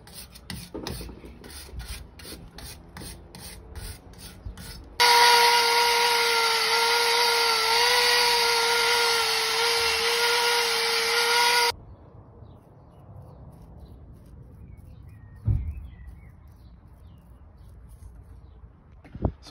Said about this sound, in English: Clean this up, some brake cleaner. See what happens, wire brush.